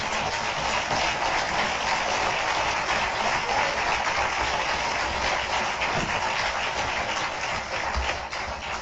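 Sustained applause from a crowd at the National Press Club, dense and even clapping that continues without a break, fairly loud.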